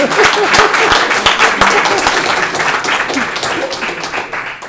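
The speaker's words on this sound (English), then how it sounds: "So a bigger round of applause." Loud, sustained applause from an audience at a climate change and urbanisation forum on the Somali Horn, dense clapping that stays fairly steady and then slowly tapers off, with a voice sounding faintly under it.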